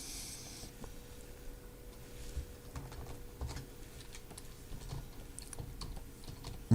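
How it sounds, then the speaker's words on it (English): Computer keyboard keys clack quietly in the background while brush shapes are changed in Photoshop, a loose string of soft, irregular taps over a low steady hum with no talking. "If you can hear the keyboard clacking away in the background, it's because I'm changing the shape of the brush using the keyboard."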